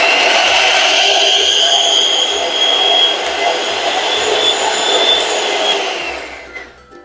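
A KENT 16051 300 W hand blender motor runs at full speed, a loud, steady whirring drone that holds evenly for about six seconds before tapering off at the end.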